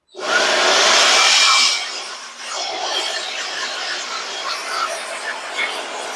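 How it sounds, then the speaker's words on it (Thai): A DeWALT DCE100N cordless blower, one of its three speed settings, roars loud and steady for about a second and a half, then drops to a lower, softer continuous whoosh as it keeps running. "ถ้าไม่มีเครื่องเป่านะครับนี่ผมก็ซื้อมาเพื่อสิ่งนี้แหละครับ"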